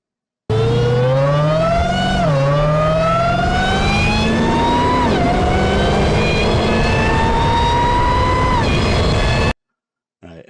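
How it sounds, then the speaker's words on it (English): A modded car engine in GTA 5 revs up through several gear changes, a loud rising whine that drops sharply at each shift, then cuts out abruptly near the end. "But we're gonna do the engine acceleration, okay, for each one."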